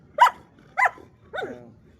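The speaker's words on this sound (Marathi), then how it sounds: "खाली बस चार्ली, बार्क, बार्क, हाय पाय" A German Shepherd barks three times in succession on command, close by, with short pauses between each bark and no other voices.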